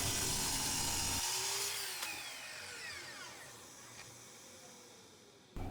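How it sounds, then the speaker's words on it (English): A miter saw cuts a wooden shelf board, its motor whine and cut ringing out close and clear before slowly spinning down over several seconds. "then I brought them over to the miter saw, and I'm cutting them at 10 inches"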